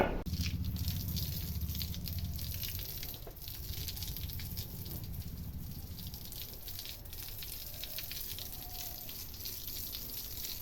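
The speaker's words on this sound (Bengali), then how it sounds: "এই যে আমার মঙ্গলাকে স্নান করিয়ে দিচ্ছি" Water sloshes and splashes steadily while a pet cow named Mangala is bathed, producing a continuous close, gushing wash with faint rattles and no voices.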